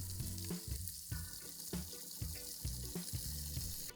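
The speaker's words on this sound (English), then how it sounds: "give them a turn every so often, and in about 10 minutes your rabbit should be nice and golden brown all over" Rabbit pieces browning in a frying pan for a Mediterranean braise, making a steady, close sizzle with soft crackles and occasional stirring or turning sounds, and no talk.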